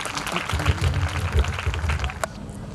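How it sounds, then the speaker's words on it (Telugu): A church congregation claps loudly to welcome the preacher at an inauguration service in Chennipadu, a dense, steady patter of many hands for nearly three seconds before stopping abruptly. "అయ్యగారు వస్తూ గట్టిగా చప్పట్లు కొడుతూ వాక్యానికి ఆహ్వానించడం"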